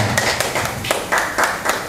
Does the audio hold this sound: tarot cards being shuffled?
no